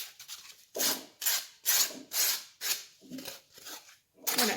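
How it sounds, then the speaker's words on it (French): Hand sanding a model boat part produces a run of rhythmic abrasive strokes, about nine close, steady rasping passes with short pauses between them. "Donc, on ponce."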